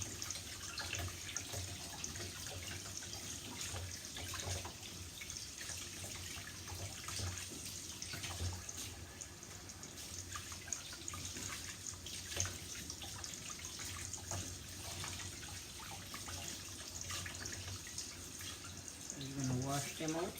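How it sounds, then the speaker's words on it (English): Tap water runs steadily into a sink as spinach leaves are rinsed, making a constant low splashing hiss at moderate distance while a voice talks over it. "Wash out all the leaves that you take out."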